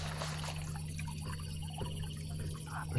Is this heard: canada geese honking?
no